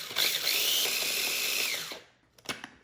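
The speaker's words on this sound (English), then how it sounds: "We blend it for about a minute." A blender or food processor whirs steadily at high pitch for about two seconds while blending homemade mayonnaise, then winds down into a few clicks and knocks.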